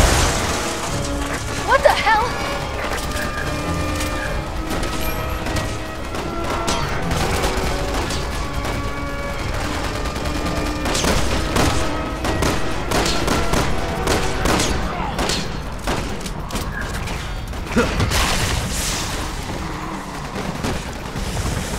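Gunfire at zombies in Resident Evil 6, Leon's campaign in Tall Oaks City, with steady, loud shooting and booming impacts layered under music and character voices throughout.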